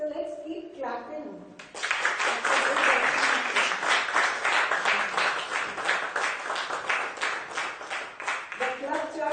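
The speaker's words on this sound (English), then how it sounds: "So let's keep clapping." Audience clapping at a Rotary club ceremony in Chandigarh marks the handover of the presidential collar. The applause swells suddenly after a brief spoken phrase and stays dense and steady. It tapers slightly near the end while talk resumes.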